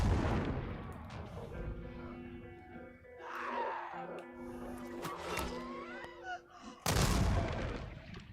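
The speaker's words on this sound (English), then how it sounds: "I want to throw a grenade." A grenade blast in the zombie game Dying Light: booming, rumbling bursts and gunfire-like cracks with layered game noise, ending in a loud sudden explosion near the close.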